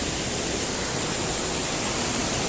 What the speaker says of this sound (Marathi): खूप वॉटरफॉल आहे पाणी पाणी